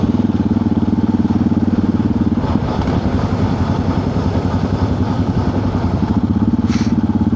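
Several motorcycles idle and rumble nearby at a petrol station, a steady low throbbing engine drone with some clatter that continues throughout, loud and close.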